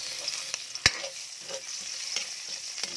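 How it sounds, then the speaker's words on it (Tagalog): Garlic and onion sautéing in a pan after tofu and boiled egg were fried in the same oil, with a steady sizzle, stirring scrapes and a sharp utensil knock on the pan. "So, maggisa na tayo ng bawang sibuyas."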